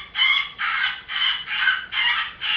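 Electronic predator call playing a woodpecker in distress sound, a series of six rapid, shrill, repeated squalls in steady rhythm, loud and clear with no talking.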